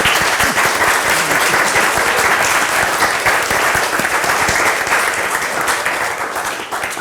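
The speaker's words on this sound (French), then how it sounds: "je vous propose d'abord qu'on l'applaudisse très fort" An audience at a Protestant book festival round table applauds warmly, a dense and sustained wash of clapping that tapers slightly toward the end.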